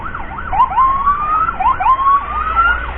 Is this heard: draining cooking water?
no